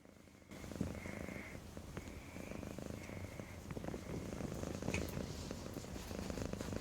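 A cat purrs up close in a steady, rumbling rhythm, soft and continuous with faint rustling around it.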